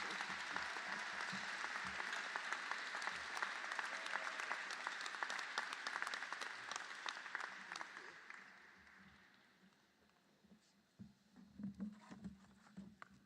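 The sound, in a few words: applause for the councilwoman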